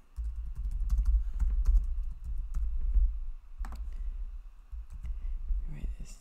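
Keys clatter on a computer keyboard in uneven bursts of rapid taps over a low background hum, with a brief pause midway.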